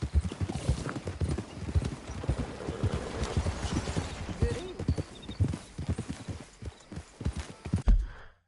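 A horse's hooves clip-clop at a steady trot in the video game Red Dead Redemption II, close and fairly loud, with a brief whinny-like sound near the end.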